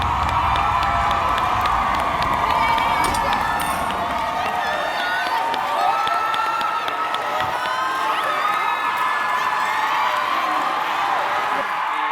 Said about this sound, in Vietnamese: Một lần nữa một tràng vỗ tay dành tặng cho 6 nhóm trưởng ở sân khấu đặc biệt ngày hôm nay